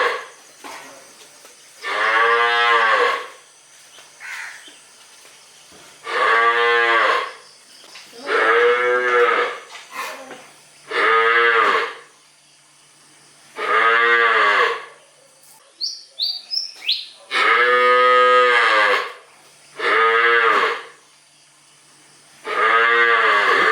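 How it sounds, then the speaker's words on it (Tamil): Cattle on a cattle farm moo loudly and close by, about eight long, drawn-out calls separated by short pauses, with a few faint clattering sounds in between. "மாடே மாடே அங்கே பாரு"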